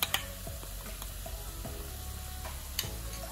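Ground coconut paste for beetroot pachadi is stirred into a pan over a low flame, giving soft scraping strokes and a faint steady sizzle with a few sharp clinks of the spoon against the pan.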